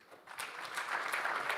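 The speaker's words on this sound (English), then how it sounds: "Ladies and gentlemen, I appreciate my partner with a clap." Brief patter of clapping from a small conference audience at a trade and investment panel that rises quickly and keeps going.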